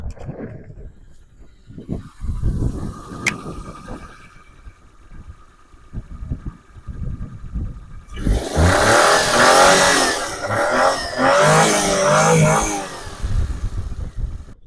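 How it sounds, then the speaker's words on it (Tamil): Maruti 800 car engine idles quietly with a light clatter and a faint whine, then revs up loudly and roughly for several seconds before settling back toward idle. "இன்ஜினோட சவுண்ட்லாம் பாருங்க"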